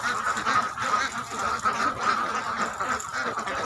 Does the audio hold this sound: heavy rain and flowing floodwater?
no